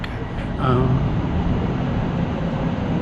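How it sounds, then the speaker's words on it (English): An electric commuter train on third-rail power pulls out of White Plains station heading south, a loud low rumble with rising whine and rail noise heard from nearby, with someone talking over it. "And the train is taking off, headed south."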